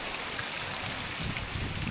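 Steady rain falls through a forest, a dense continuous patter on leaves and ground with no voices, even and moderately loud throughout.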